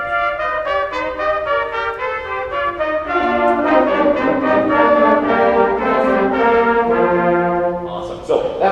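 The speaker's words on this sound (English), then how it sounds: "Trumpets, can you play your intro? And then brass, join them in a couple measures in." A high school band's trumpets open with a bright held phrase, then the fuller brass section swells in beneath them, loud and sustained, rising into rich chords.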